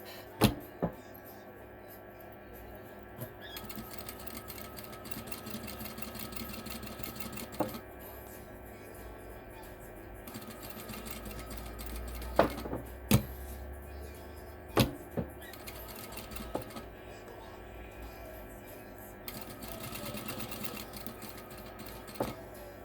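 Short bursts of a sewing machine stitching washable fabric wipes, with quiet pauses between runs and scattered clicks and knocks from handling the work, all at low volume.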